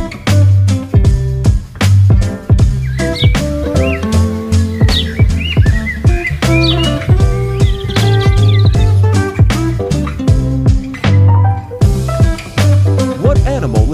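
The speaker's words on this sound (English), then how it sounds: "Yes, this is bird." Bird chirping in a children's animal-names lesson, bright whistled tweets repeating steadily throughout over a continuous musical backing, fairly loud and without talk.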